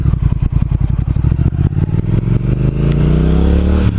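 A 2019 Triumph Speed Twin with a 1200 engine rides along. It makes a loud, steady low rumble with fast firing pulses, and the pitch rises as it accelerates toward the end. No one speaks.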